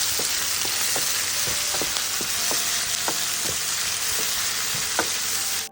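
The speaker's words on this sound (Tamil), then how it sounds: "இது எல்லாத்தையும் நம்ம கொஞ்சம் லைட்டாக வதக்கலாம்." Spices, cashews and chopped coconut sauté in hot oil with a steady close sizzle, punctuated by irregular clicks and scrapes of stirring in the pan.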